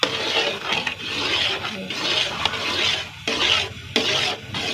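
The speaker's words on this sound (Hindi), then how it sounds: "इसमें चमच हिलाते जाएंगे" A spoon stirring semolina halwa in a pan as it cooks, a loud, continuous scraping and rasping swish in repeated strokes, close by, with a low sizzle underneath.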